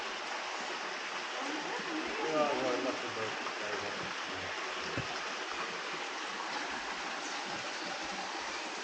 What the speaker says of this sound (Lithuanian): Slow motion krioklys čia yra.